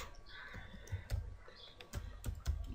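Fingers typing code on a computer keyboard, a few soft irregular key clicks and taps close by over a quiet room hum.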